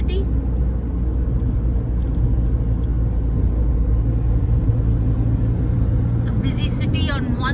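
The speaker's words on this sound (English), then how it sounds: "We are obviously driving through the outskirts of the city." A car driving on the road through the outskirts of Bhubaneswar, a steady low rumble of engine and road noise heard from inside, with faint chirping sounds near the end.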